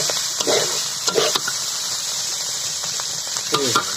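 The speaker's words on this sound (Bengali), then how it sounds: "ভাজা প্রায় শেষ পর্যায়ে চলে এসেছে।" Goat tripe fries in hot oil, giving a steady bright hiss with several stirring scrapes and short squeaky bursts from the pan, close and fairly loud throughout.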